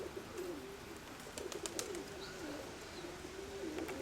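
A steel-grey, speckle-throated pigeon coos in soft, repeated low calls, fairly faint against a light outdoor background with scattered clicks.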